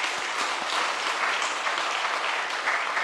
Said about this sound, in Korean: 이분들이 너무나도 박수를 드리고 싶어요